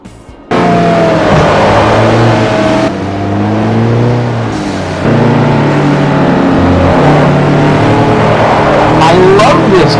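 A Ferrari 458 Italia drives along the Amalfi Coast, its engine loud and close with rising and falling revs through gear changes over a continuous roar.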